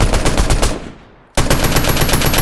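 Rapid automatic gunfire from a shooting video game rattles loud and close in a fast burst. After a brief gap the firing resumes at the same relentless pace, with no voices.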